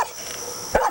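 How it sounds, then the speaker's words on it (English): A dog gives a single sharp bark near the end of a quiet moment while a canoe is being loaded for a trip on the Allagash River. "This is Peppy, his dog"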